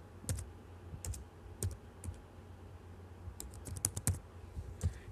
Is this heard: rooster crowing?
no